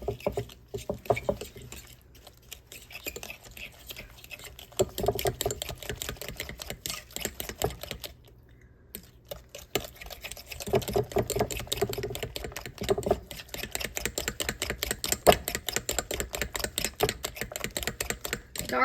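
Dark brown sugar and white sugar being stirred together in a bowl, giving a quick run of close, dry scraping and tapping clicks in a steady pattern, with a brief pause midway before the mixing resumes.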